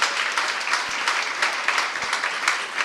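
A crowd at a school launch event applauds steadily, a dense wash of clapping from many hands that holds at an even, fairly loud level throughout.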